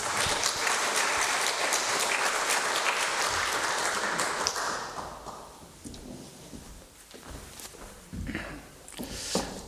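Applause from a church congregation at a thanksgiving service for an elder's installation as board chairman, a dense broadband clapping that fills the first half, then thins into scattered claps, shuffling and movement.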